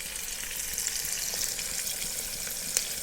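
Chopped onion frying in soybean oil inside a pressure cooker on a stove, a steady, close hiss of sizzling with a few faint crackles, no voices.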